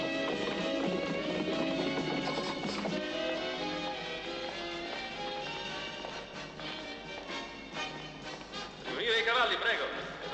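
American Saddlebred parade horses moving in their typical show gaits on a track, hooves clip-clopping faintly under busy crowd noise and a distant voice, with a whinny near the end.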